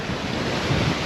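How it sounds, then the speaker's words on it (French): Breaking waves rush around a sailboat crossing from Morocco to Spain in 24-knot wind, a loud continuous wash of surf and roaring wind across the microphone. "Ça déferle."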